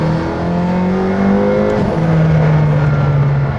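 McLaren Senna with an 800 hp engine accelerating, a loud close engine note climbing steadily in pitch, dipping briefly at a gear change, then rising again.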